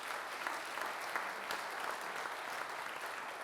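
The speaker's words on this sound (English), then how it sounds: "let's give them a big round of applause to make them feel welcome" Steady applause from an audience during an ASMR roleplay, soft and even with a dense patter of claps throughout and no voices over it.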